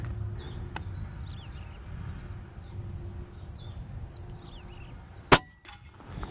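A single sharp, muffled crack from a Reximex Accura PCP air rifle with internal baffling and no front silencer rings out once amid outdoor ambience with birds chirping in the background.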